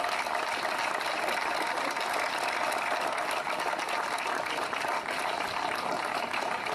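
A Memorial Day crowd applauds veterans, a steady, even wash of many hands clapping that runs at constant loudness through the whole stretch, somewhat distant and without any talking over it.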